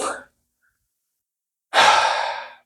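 During a yoga flow, one audible breath tails off at the start, followed by silence and then a long, deep, breathy exhalation that sounds close and clear, with no talking.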